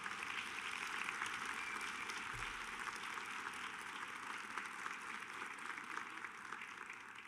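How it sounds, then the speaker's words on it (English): Sustained applause from graduates and their families at a medical school Match Day ceremony, a steady crackling clatter of many hands heard from a distance throughout. "you can give a applause for that"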